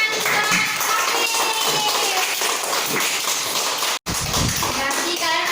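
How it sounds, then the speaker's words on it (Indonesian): A classroom of students claps for a classmate, a brisk burst of applause heard close up that continues steadily, broken by a short cut. "tepuk tangan untuk Hafiz"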